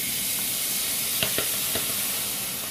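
Minced garlic sizzles in olive oil in a pan, a steady close frying hiss with a few soft stirring scrapes partway through.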